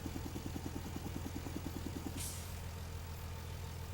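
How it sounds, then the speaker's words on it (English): A tractor in Farming Simulator 25 idles with a rapid mechanical pulsing chatter, much like an air compressor, that stops partway through, leaving a low engine hum and a brief hiss. "Yeah, this tractor makes noises that it shouldn't make."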